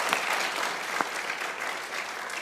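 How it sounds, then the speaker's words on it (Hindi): Steady applause from a studio audience during a cricket talk show, a dense even patter of many hands clapping at moderate level with a couple of sharper claps standing out. "बहुत तालियां बजाइए लाला के लिए भाई"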